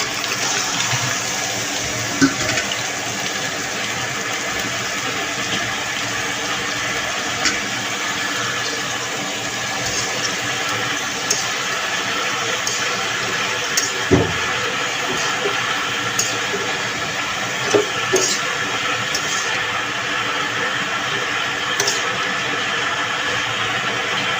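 A water pump motor runs inside a home kitchen, giving a steady, loud watery whir with rushing flow that continues unbroken, with small clicks and knocks scattered over it and no voices.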